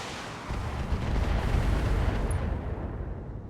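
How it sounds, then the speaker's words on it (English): A mech fires a slug round in the BattleTech video game, a heavy, rumbling blast that swells after a brief pause and rolls on loudly with a deep low-end roar before fading. "I'm gonna take a shot with a slug for the stability damage."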